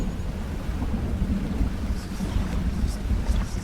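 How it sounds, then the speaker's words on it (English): Low rumbling thunder rolls continuously with rain and wind in the fishing game Dredge, a heavy, steady storm roar that fills the scene without letting up. "Is there a storm brewing?"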